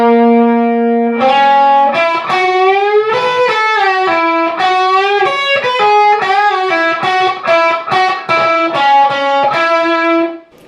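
A heavily distorted electric guitar plays a lead solo, opening with a held note and then sliding up on the fourth string into quick melodic runs and bends, loud and close with no talking.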